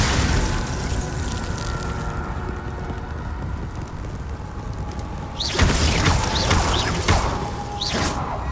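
A Confringo fire spell going off in Hogwarts Legacy, a heavy rumbling boom that swells about halfway through, followed by crashing, whooshing bursts over a constant roar of game noise.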